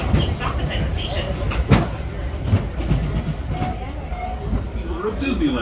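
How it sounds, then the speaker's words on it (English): The Disneyland Railroad train draws to a stop beside its station, rumbling and clattering at moderate distance while the brakes faintly squeal, with crowd murmur and voices in the background. "train comes to a falling complete stop beside the station."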